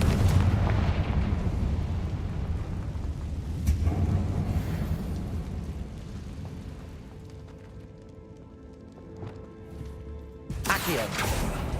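The Confringo blasting spell in Hogwarts Legacy sets off a heavy rumbling explosion and crackling debris that fade into quieter clatter, ending in a sharp blast, with a voice briefly underneath.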